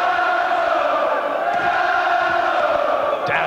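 A boxing crowd chants a fighter's name in a packed arena, a sustained rolling roar of voices that rises and falls.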